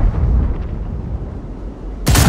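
Artillery shell in a tank game, a low rumbling roar that builds toward a loud crashing impact at the end, close and heavy, with no speech.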